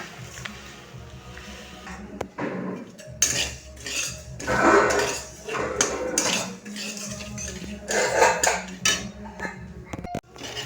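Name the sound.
dalia being fried and stirred in a kadai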